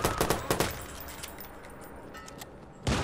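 Shotgun fire in Watch Dogs comes as a quick burst of sharp blasts at the start, then a quieter stretch, and ends with one more loud shot.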